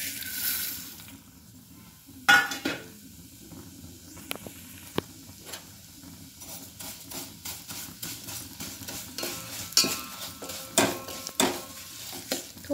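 Vermicelli frying in hot ghee for shevai kheer, a soft sizzle under irregular clinks and scrapes of a spoon stirring in the pan, close and fairly quiet, no speech.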